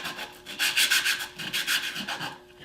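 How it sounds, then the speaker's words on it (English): Hand sanding of wooden bowl segments with 220 grit sandpaper, heard as close, rhythmic back-and-forth rasping strokes in quick succession, alone without talk. "So I find the best way to do this is just to lightly sand, using 220 grit sandpaper, just lightly sand each base"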